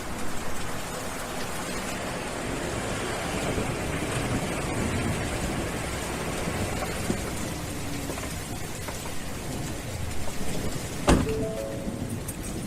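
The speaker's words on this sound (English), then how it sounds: "It's raining hard." Heavy rain pours steadily and densely throughout, a loud continuous hiss of drops on surfaces, with a sharp crack or knock near the end and no voices.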